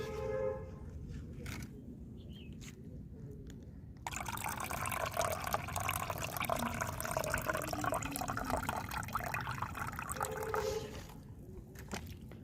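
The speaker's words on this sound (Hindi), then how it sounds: "फिर मैं इसमें इतना ही पानी मिलाऊंगी।" Water is poured into a container of homemade banana-peel and peanut-shell fertilizer for marigold plants, a steady splashing fill lasting about seven seconds, with quieter trickles before and after.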